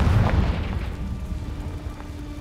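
A Confringo spell explosion in the video game Hogwarts Legacy: a single loud, close boom at the start that rolls off into a fading low rumble, heard alone.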